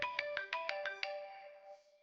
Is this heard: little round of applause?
no